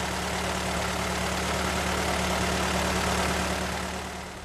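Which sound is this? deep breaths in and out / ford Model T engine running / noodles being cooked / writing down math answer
ford Model T engine running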